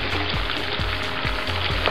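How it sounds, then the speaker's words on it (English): Broccoli and cauliflower go into a pan of sizzling shrimp, giving loud continuous frying with a steady crackle and repeated soft stirring thumps. "And now I'm adding in my broccoli and cauliflower."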